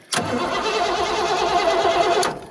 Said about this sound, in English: We can start the car from under the hood too.